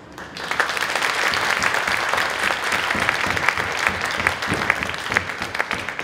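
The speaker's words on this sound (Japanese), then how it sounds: "この拍手が答えですよ" Applause fills a crowd at a professional wrestling promotion's debut show, steady and dense for about six seconds with no voices over it, rising quickly and holding at full strength.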